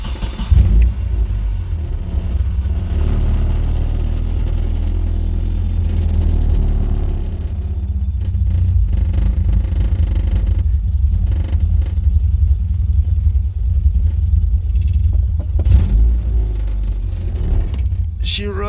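A 1995 Nissan 240SX engine running after a rebuild, a steady low rumble at fairly low revs with a few small surges, close and loud throughout.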